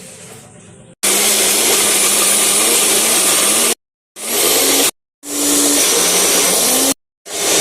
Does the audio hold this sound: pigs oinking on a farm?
no